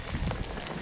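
Freezing rain patters steadily on surfaces outdoors in snowy conditions, a dense, even hiss with faint ticks, at moderate level and with no voices.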